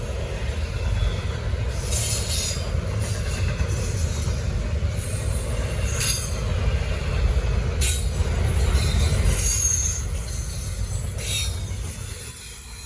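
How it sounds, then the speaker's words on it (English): A fast Norfolk Southern freight train, the 24X, roars past close by in the rain, its wheels squealing and clattering in a loud, continuous rush that lasts the whole stretch. "I swear, this train go over 50 sometime."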